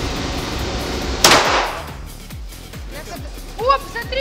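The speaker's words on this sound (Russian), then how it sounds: "Следующий выстрел." A single sharp crack of a shooting gallery gun, followed by the light rattle and clatter of the gallery's target mechanism, with faint voices afterward.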